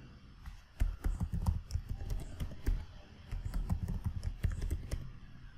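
Rapid keystrokes on a computer keyboard while a root password is entered during a CentOS Stream 9 install in VirtualBox, a close, steady clatter of clicks with brief pauses between bursts.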